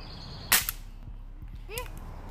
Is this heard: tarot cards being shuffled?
no